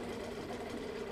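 A Mariner 4hp two-stroke outboard engine idles with its leg in a bucket of water, a fast, steady buzzing putter with a rapid mechanical rattle, faint and unbroken over a brief moment.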